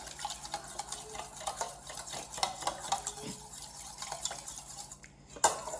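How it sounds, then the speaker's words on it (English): Whisking an activated yeast mixture for focaccia in a bowl, soft rapid clinks and swishes of the whisk at a quiet level, with a sharper clatter near the end. "and then we're just gonna whisk it a little more"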